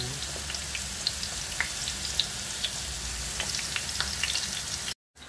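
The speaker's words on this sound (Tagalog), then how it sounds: "Potato, sweet potato, carrots, and I fried like this." Potato, sweet potato and carrot pieces fry in oil for chicken putsero, a steady close sizzle with scattered small pops and crackles throughout, ending in a brief silent gap.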